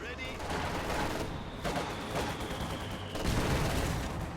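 A mortar bombards a church in a real-time strategy match, heard as a dense, continuous barrage of gunfire and thudding blasts with heavier booms swelling toward the end, under a commentator's voice.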